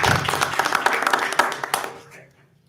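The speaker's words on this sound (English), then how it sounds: "Round of applause." A round of applause for Jessica at a New Hartford school board meeting: a small group clapping briskly for about two seconds before it quickly dies away.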